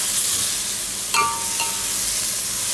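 Steady frying sizzle from a pan close by, broken by a sharp metallic clink of a utensil during stirring and a fainter second tap soon after.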